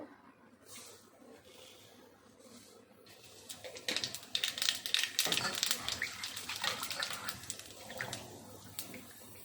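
Nigella seeds hit hot oil for a Bengali fish curry, starting a soft hiss that swells into a steady crackling sizzle, close and moderately quiet.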